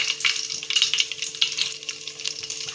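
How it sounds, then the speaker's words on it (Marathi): Three sliced onions frying in oil in a pan, a close, continuous sizzle with soft crackling and occasional stirring scrapes, steady throughout with no talking. "आपण आता कांदा गोल्डन ब्राऊन होईपर्यंत तळून घेऊया"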